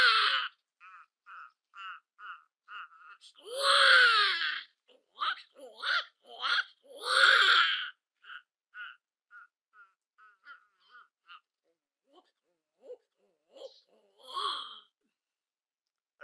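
A voice imitates a newborn baby crying, giving short wailing bursts separated by gasping breaths and silences, some cries longer and louder, with the imitation fading into sparse small sounds before one last cry.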